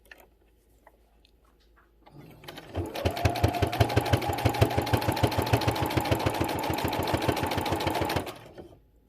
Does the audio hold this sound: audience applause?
no